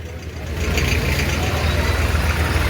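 Tractor engine running during a Nagar Kirtan procession, a steady low diesel rumble with a throbbing idle that swells slightly after the start, close and loud.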